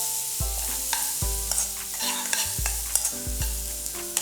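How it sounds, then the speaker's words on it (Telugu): Almonds and onions frying in ghee for a chicken recipe give a steady sizzle, while a utensil stirs and scrapes the pan in repeated low thumps and clanks, close and alone. "ఆల్మండ్స్ అంటే బాదంని కూడా నేను ఇందులో వేసేస్తున్నాను. సో కొద్దిగా ఇలా ఫ్రై అవ్వనిద్దాం."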